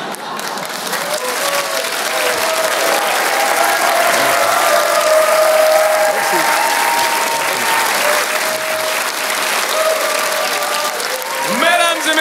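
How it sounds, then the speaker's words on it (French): Loud, sustained applause from a large audience at a Paris Saturday-night variety show in Pigalle, dense clapping lasting throughout with cheers and voices mixed in and a few whistles. "un tonnerre d'applaudissements pour Monsieur Popek"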